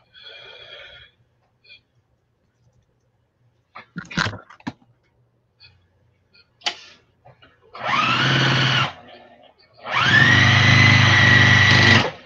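A sewing machine stitches pieces of a Farmers Wife quilt, running in two loud sustained bursts of a couple of seconds each near the end, after scattered clicks and handling noises.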